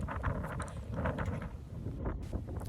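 Strong wind buffets the microphone while cycling through Malmö, Sweden, a steady low roar with gusty swells throughout, heard alone without talk.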